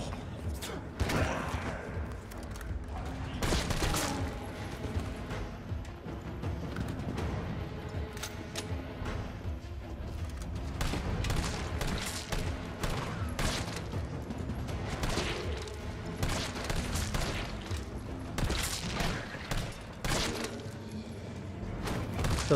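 Gunfire in Resident Evil 3 Remake, a string of sharp in-game shots and heavy thuds scattered irregularly over a busy, loud soundscape with occasional impacts.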